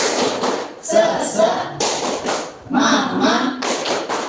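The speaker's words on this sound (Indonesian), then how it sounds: "Tepuk semangat." A class of students performs the rhythmic 'tepuk semangat' spirit clap in an Indonesian Islamic religious education lesson: short bursts of group clapping in a patterned beat, close and fairly loud, with voices chanting along.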